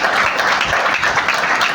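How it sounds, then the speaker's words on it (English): An audience at a speech event in Mombasa claps steadily, a dense, even wash of applause from a crowd that continues throughout. "so we can give them a round of applause"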